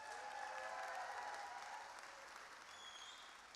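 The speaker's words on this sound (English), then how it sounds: "Can we get another round of applause for him?" An audience at the Horror Game Awards fills the room with a sustained wash of clapping, steady and fairly distant, slowly fading a little toward the end.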